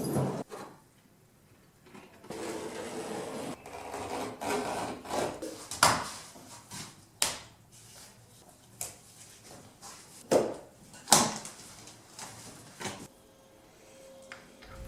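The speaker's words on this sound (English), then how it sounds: "I cut off the excess rubber." Excess rubber being cut off a homemade circular saw guide rail, with scattered quiet scraping and slicing strokes in irregular bursts, close by and alone.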